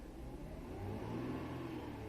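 A 2005-2010 Chrysler 300 engine idles low, then revs up briefly to a higher, steady whir before easing off slightly, heard from nearby.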